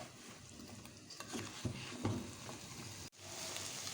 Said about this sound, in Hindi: अब बैंगन और आलू को हम अच्छे से फ्राई करेंगे 2 से 3 मिनट के लिए।